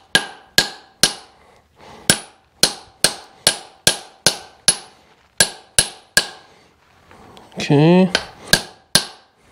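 A hammer striking a socket to drive a part in during a four-speed transmission install on a small block engine: about twenty sharp, ringing metallic blows in a steady rhythm, loud and close, with a brief whirring tool sound midway and one short spoken word.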